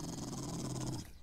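Dogs growl in the survival video game 7 Days to Die, a close, continuous snarling with a brief snort at the end as the sound cuts off.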